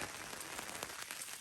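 Steady rain falling on a campsite during an overlanding trip in Utah's desert country, a dense, even hiss of drops pattering across surfaces, close and continuous with no voices.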